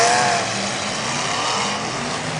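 The number 100 demolition derby car, a wagon, revs its engine hard in an arena at Yuba City, California, giving a loud, sustained roaring growl that opens strongest and then holds steady, with no voices over it.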